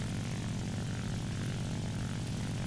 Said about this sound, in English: This plane right now is a joy to use